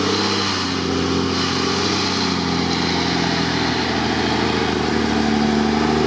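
A GAZ-66 off-road truck engine runs steadily and loudly throughout, a continuous low mechanical drone with no talk over it.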